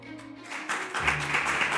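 Audience applause at a school quiz competition between two teams, clapping swelling from quiet into a steady, moderately loud patter that continues to the end.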